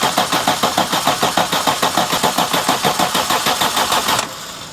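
A Suzuki Feroza engine cranks over on the starter in a fast, even rhythmic chug, loud and close, for about four seconds before cutting off abruptly.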